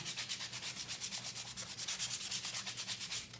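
Sandpaper rubs over the painted wooden edges of a rustic flag in quick, even back-and-forth strokes, a steady rhythmic rasp that keeps going close by with no voices.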